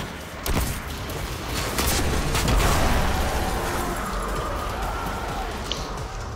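Destiny 2 gunfire on Mars: sharp shots and bursts crackling over a rumbling, busy background of in-game effects, fairly loud and irregular.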